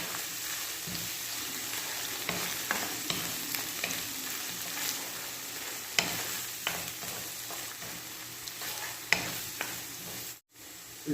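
Tomato paste sautés in a pan with a soft, steady sizzle, broken by repeated scraping and stirring strokes from a utensil, close and fairly quiet.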